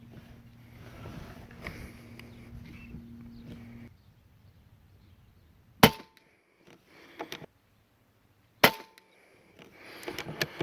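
Air Venturi Avenger .25 air rifle firing a JSB Predator 26 grain pellet at 3000 PSI, single shot tray, at a 50 yard range, two sharp, close cracks a few seconds apart against a quiet background, with faint handling clicks between.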